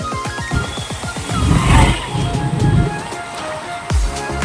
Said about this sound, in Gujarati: વરસાદ ચાલુ થઈ ગયો છે ફટાફટ દોડો ઘેર